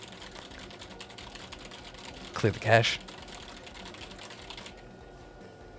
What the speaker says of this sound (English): I don't know if you could hear me slapping the keyboard